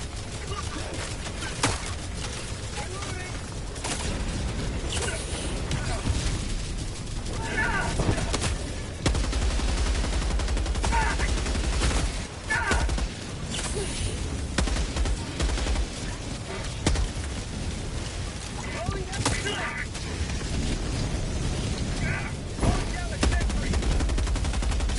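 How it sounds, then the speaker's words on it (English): Bombardment and gunfire in Helldivers 2, with gunships overhead: continuous crackling shots and scattered heavy booms over a low rumble throughout, with occasional voices mixed in. "We're beginning to be bombarded."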